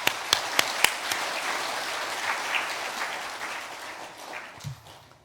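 A church congregation at a Sunday harvest thanksgiving service applauds in thanks, a few sharp claps up front giving way to broad, steady applause that slowly fades out.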